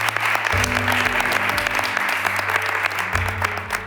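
Dense audience applause for José Luis at a Spanish trading talk, steady and fairly loud throughout, with a low hum running underneath.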